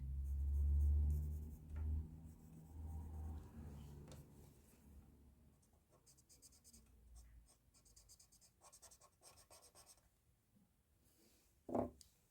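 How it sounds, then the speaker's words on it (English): Pencil scratching and shading on paper while drawing, a soft, steady rasp of strokes under occasional speech and a sharp knock near the end. "Put some pencil on the inside."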